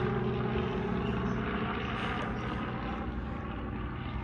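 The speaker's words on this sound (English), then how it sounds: "Boy, that's a fat old helicopter." Heavy helicopter flying overhead, a steady, broad rotor and engine roar that stays loud throughout.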